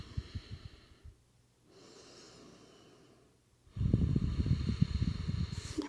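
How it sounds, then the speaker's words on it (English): Deep breathing during a vinyasa yoga class, faint slow inhales and exhales followed by a louder, rough, noisy exhale near the end. "One more deep breath."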